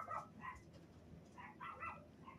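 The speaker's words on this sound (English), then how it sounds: "The dog barked when I was walking there." Dog barking inside a Roblox game, a few short mid-pitched bark bursts near the start and again toward the end, moderately loud with no talk over them.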